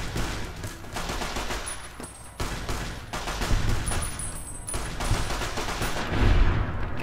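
Rapid gunfire in Fallout New Vegas, a continuous stream of close, loud shots in bursts with brief pauses, over a dense background of combat noise.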